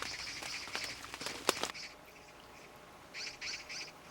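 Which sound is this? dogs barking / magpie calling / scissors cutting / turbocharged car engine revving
magpie calling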